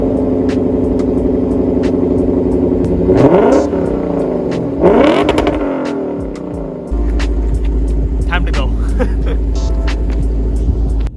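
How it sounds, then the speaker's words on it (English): A 2015 Lexus RC F with its 5-liter V8 revs hard twice in a row, loud and close, each blip rising and falling. It then settles into a steady rumbling idle, with brief talk early on. "I just pissed off all these people in these buildings by revving the car"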